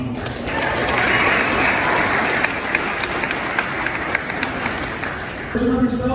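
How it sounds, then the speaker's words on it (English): A crowd at a wholesaling real estate event gives a round of applause, steady dense clapping building after a spoken line and lasting several seconds, with a voice returning at the close. "let's just give a round of applause"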